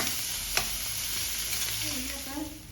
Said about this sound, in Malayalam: വഴറ്റട്ടെ